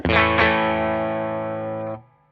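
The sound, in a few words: electric guitar through Fender Hot Rod Deluxe amp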